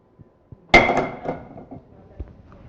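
An auctioneer's hammer strikes once, sharp and close, closing a lot during an Islamic art sale, with a few softer knocks before it and a faint ringing decay after.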